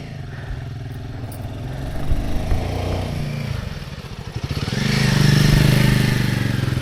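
Motorcycle engine labouring up a steep mountain road to Hatu Peak in the Himalayas, a loud close chugging drone that dips and then swells into a strained, revving climb.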